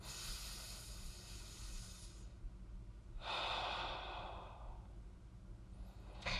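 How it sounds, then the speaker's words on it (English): Deep, full breathing during a full-body mobility stretching workout: a long, soft exhale, a pause, then a strong airy inhale, close and quiet with no talking. "Nice full breaths."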